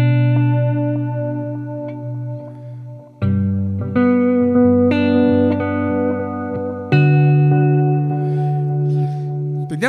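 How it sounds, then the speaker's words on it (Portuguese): Electric guitar played through an Earthquaker Kaleidoscope delay pedal with reverb switched in partway, loud sustained chords ringing out with repeating echoes and a growing wash of reverb across several strums, without speech. "eu vou tocar sem reverb e no meio do caminho eu vou pôr, ó"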